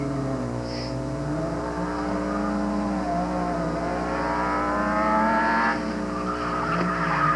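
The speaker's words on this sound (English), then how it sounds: "And he is spun again and hit another pylon" A race car on slick tires squeals and skids as it spins during a 1988 Canadian Solo 2 autocross national event, with a loud, sustained tire screech and engine tone that shifts in pitch over several seconds.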